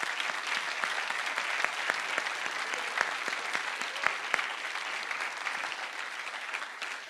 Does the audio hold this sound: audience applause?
yes